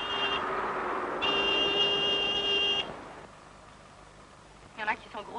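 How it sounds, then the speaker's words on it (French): Car horn honking on a street in a 1956 French comedy, a sustained buzzy blast that stops, then sounds again longer, with traffic noise underneath and brief talk at the end. "Il y en a qui sont grossiers jusque dans leur façon de klaxonner"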